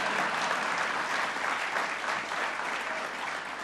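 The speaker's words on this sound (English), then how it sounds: "Well, you can clap on that." A dense, steady round of audience applause at a gathering honoring first responders, loud and close, with many hands clapping together and no talk over it.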